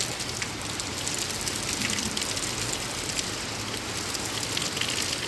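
A Kalbaishakhi storm in Sylhet drives wind-blown rain down in a dense, continuous roar of drops, loud and unbroken throughout with no voices.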